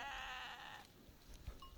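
A single drawn-out bleat rings out in an early-morning pasture where a ewe has just given birth to a lamb. It is loud and close for under a second, then gives way to quiet rustling and soft thumps.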